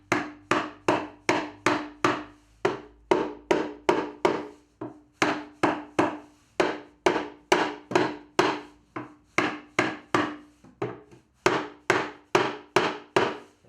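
Steady hammer taps knock a pallet-wood boat bookshelf into place, about two crisp, close blows each second in an even rhythm that keeps going throughout, with only brief pauses.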